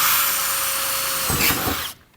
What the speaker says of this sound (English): Got a 6mm drill bit.